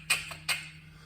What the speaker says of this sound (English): Give that a pump to get some oil on the chain.